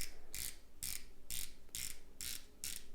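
The 120-click bezel of a Blancpain x Swatch Scuba 50 Pacific Ocean watch is turned, making seven quick, even ratcheting clicks very close up over a faint background hiss.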